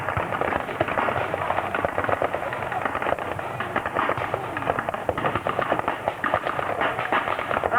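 Crackling bursts of machine-gun fire with blanks from a half-track during a WW2 battle reenactment ring out in rapid, uneven volleys at mid distance, with scattered shots and faint voices in the background.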